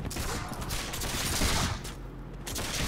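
Musket volleys crack out in the Mount and Blade video game, a dense, loud burst of overlapping shots that rolls on continuously across the whole moment.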